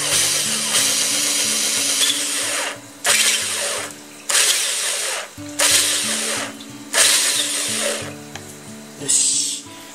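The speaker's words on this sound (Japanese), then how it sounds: "穴を開けます。" A power drill whirs in repeated bursts with a worn bit, boring a hole for an ant farm, five or six runs of grinding and boring separated by short pauses, close and loud.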